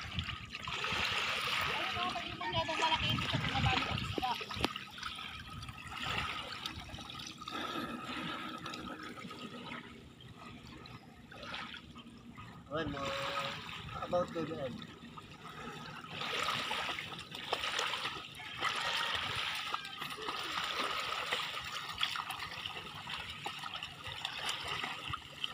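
Running water trickles and splashes while a dog is bathed, continuous and fairly close, with household commotion and voices talking over it at times.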